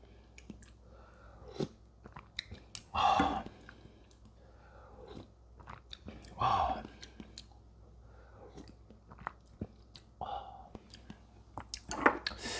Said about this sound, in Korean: 국물 한번 먹어볼게요.